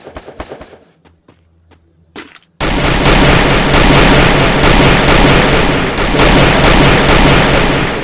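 Gunfire in the Free Fire battle-royale video game: a few scattered shots, a brief lull, then a sustained loud burst of rapid automatic fire that continues nonstop to the end.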